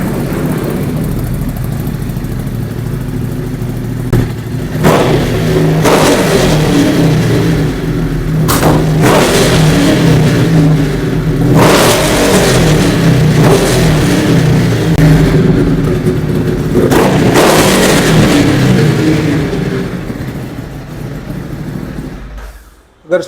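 A 2016 Kawasaki ZX6R superbike fitted with a full Akrapovic exhaust system idles loudly and barks through several sharp throttle blips spaced a few seconds apart, then settles and cuts off at the end.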